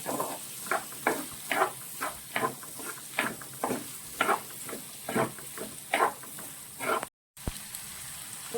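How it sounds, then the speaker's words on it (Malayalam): Prawns and beans stir-fried for a Kerala mezhukkupuratti, a spoon scraping the pan in regular strokes about twice a second over a steady sizzle, close by. "തേങ്ങാക്കൊത്തൊന്നും ഇടുന്നില്ല, ജസ്റ്റ് ഇതെല്ലാം കൂടി നമുക്കൊന്ന് മിക്സ് ചെയ്യാം."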